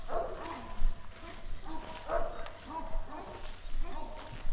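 Chihuahuas barking and yipping in a few short bursts, fairly close, with a person's voice talking over and between the barks.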